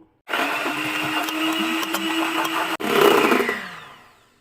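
Electric mixer beating one cup of cream on slow speed, a steady close whir that cuts out briefly, then restarts and fades away.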